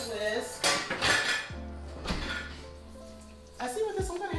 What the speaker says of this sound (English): Let me whisk.